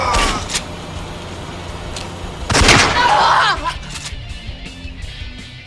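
A headshot effect in a PC video game sounds as a sharp, loud gunfire-like crack with a brief burst, heard amid other in-game shots and background noise.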